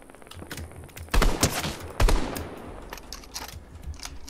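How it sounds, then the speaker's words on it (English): Bursts of rapid gunfire crackle with a couple of louder heavy shots, dense and sharp, combat sounds from Fortnite, with no voices. "A lot of gunfire down here."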